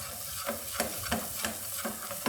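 Garlic sizzles in hot oil in a pan, a soft continuous frying hiss broken by regular clicking taps of a stirring utensil, close and faint.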